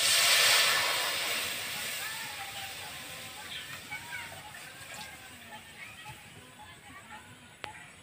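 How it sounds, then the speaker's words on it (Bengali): A little water poured into a pan to start sugar syrup for balushahi sweets, a brief hissing splash at first that fades into a low steady simmer, with a sharp clink near the end. "প্রথমে অল্প করে একটু জল দিয়ে দিচ্ছি"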